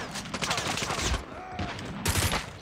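Automatic gunfire from an MK2 in Call of Duty Mobile, heard as rapid bursts of shots mixed with game effects, fairly loud for under three seconds.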